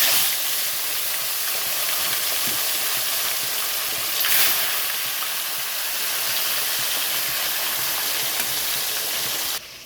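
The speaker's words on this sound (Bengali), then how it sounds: "কড়াইতে সরষের তেল দিয়েছি, সরষের তেলটা গরম হয়ে গেছে। এখানে আমি মাছগুলো ছেড়ে দিচ্ছি ভাজার জন্য।" Tilapia pieces fry in hot mustard oil in a kadai, giving a steady, dense sizzle and crackling hiss that lasts throughout, close and fairly loud, with no talking.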